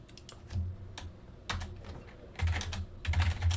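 Typing on a computer keyboard while configuring network switches, short bursts of crisp key clicks in irregular clusters, close and alone.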